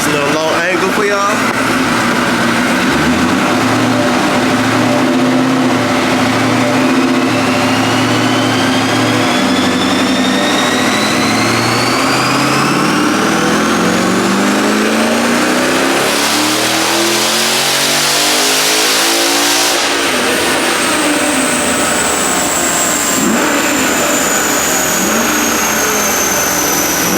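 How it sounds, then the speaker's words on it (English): A twin-turbo Dodge Hellcat revs hard through a long 5th-gear pull, its loud engine note climbing steadily in pitch, briefly dipping, then rising again with a high turbo whine. People talk over the engine. "I'm only gonna do a 5th gear pull just to see what it does"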